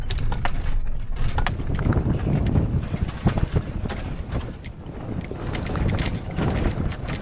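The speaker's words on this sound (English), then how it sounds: "The wind just swoops over and down and around" Strong desert wind buffets and roars steadily, with rumbling gusts and flutters close to the microphone throughout.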